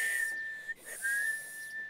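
Someone whistling with pursed lips, a sustained steady high tone that breaks briefly in the middle and then resumes, loud and close with no talking.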